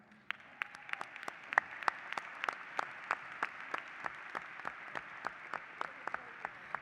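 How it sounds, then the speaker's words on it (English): An audience claps in sustained applause for volunteers at a state FFA convention session, a dense steady patter of many hands with sharper individual claps standing out, moderately distant in a large hall. "please join me in a round of applause for these dedicated volunteers"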